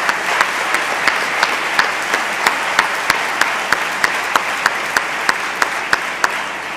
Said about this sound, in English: Big round of applause for Reverend Schilling, please.